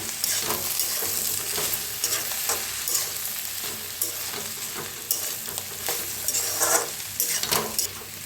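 Okra with garlic masala sizzles steadily in a hot pan while a spatula scrapes and stirs it in repeated strokes, loud and close.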